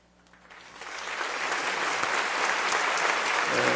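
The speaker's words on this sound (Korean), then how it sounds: "성도님들께서는 따뜻한 박수로 환영해 주시기 바랍니다" Congregation applause at a Sunday evening church service welcoming guests, rising from quiet into steady, full clapping that holds to the end.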